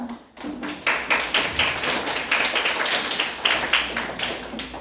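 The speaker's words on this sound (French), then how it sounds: "N'oubliez jamais de vous applaudir quand vous terminez votre devise." A CM1 class of schoolchildren claps together in a classroom, a dense burst of quick, sharp hand claps that starts after a brief pause and continues steadily, close and fairly loud.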